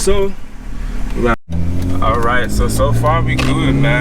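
A BMW E46 with a rough idle pulls away and revs up, the engine note climbing and settling close by beneath someone talking, with a brief cut near the start.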